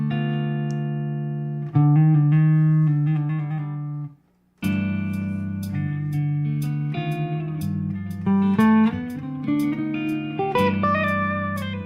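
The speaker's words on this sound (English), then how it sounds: "let's see what C melodic minor sounds like" Keyboard chords played over a repeating vamp in C melodic minor ring out in sustained clusters, stopping briefly before a denser passage of shifting voicings and higher melodic notes resumes alone.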